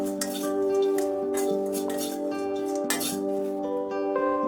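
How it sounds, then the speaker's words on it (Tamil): Roasted peanuts are poured from a pan into a bowl, making a quick run of close, crisp clinks and rattles with ringing tones beneath. No voices are heard. "இந்த வறுத்த வேர்க்கடலையை ஒரு பவுலுக்கு மாற்றிக்கலாம்."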